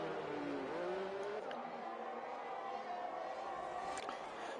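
Race cars in a racing video game on an Austria track, engine whine rising and falling in pitch as they brake and accelerate, moderately loud and steady, with a commentator talking over it.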